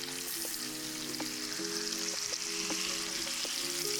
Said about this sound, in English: You wanna hear it sizzle.